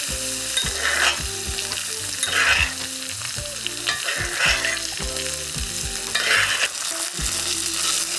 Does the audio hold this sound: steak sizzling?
yes